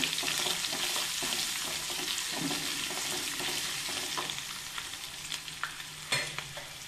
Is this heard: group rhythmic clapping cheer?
no